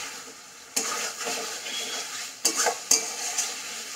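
Shol fish kalia sautéing in oil in a pan gives a soft continuous sizzle, broken by a few sharp scrapes and stirring clatters of a spatula against the pan, close and moderately quiet, with no speech.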